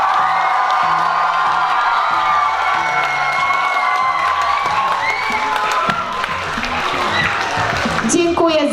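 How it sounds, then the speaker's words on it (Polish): A crowd of children and guests at a school event cheers, whoops and claps for the organizing team, a loud sustained burst of noise with voices mixed in. "Dla Pani Dyrektor gromkie brawa"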